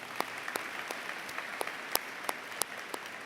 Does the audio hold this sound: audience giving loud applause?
yes